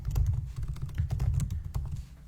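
Computer keyboard typing while writing code: rapid, dense keystrokes clatter continuously and close-up, with no voices.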